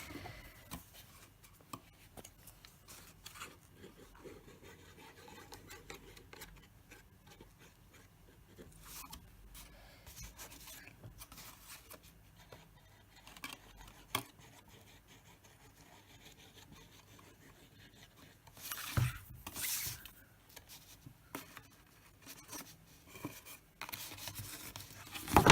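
Scissors cut back card stock for a 6x6 shaker-top card box, giving soft, irregular snips and rubbing scrapes close up, with a louder burst of rustling handling near the end.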